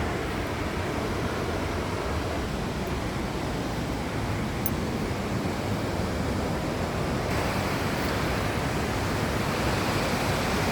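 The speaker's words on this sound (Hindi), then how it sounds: "ये देख सकते हैं कि पानी की आवाज़ कितनी तेज़ है कि मेरे रूम तक भी सुनाई देता है।" A river swollen after heavy overnight rain rushes loudly and steadily, a dense unbroken roar of churning water that fills the whole clip with no voices.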